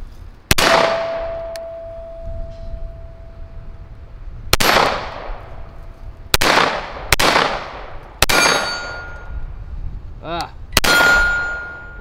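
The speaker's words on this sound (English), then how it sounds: "I'll just shut up and shoot it" A pistol with a low bore axis fires six sharp, loud shots at uneven intervals, each with a metallic ring and a decaying echo.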